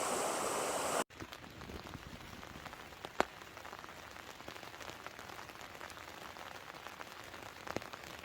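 Heavy rain patters steadily on a tent in autumn woods at night, a dense, even hiss with occasional louder drips, after a brief burst of noise at the start.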